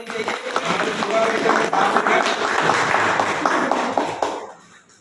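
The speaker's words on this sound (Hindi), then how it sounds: "तो मैं जोरदार तालियों के साथ प्लेटिनम क्लब में अचीवर मिस्टर दीपक गुरु जी को बुलाना चाहूंगा।" Loud applause from a meeting audience welcoming a Platinum Club achiever, with a dense wash of clapping that holds steady for about four seconds before fading away at the end.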